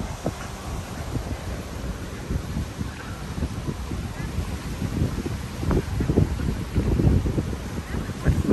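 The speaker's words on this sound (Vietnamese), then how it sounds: "sóng đánh, biển sóng đánh rất là mát luôn" Sea waves break steadily on a beach at Phú Quốc in the late afternoon, with wind buffeting the microphone. The wash is continuous, close and moderately loud, swelling slightly toward the end, with no voices.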